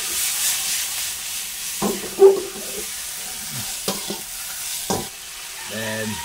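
Pork cubes with whole peppercorns sizzle steadily in a pan, a soft constant frying hiss broken by a few sharp clatters and scrapes of stirring, with no one speaking.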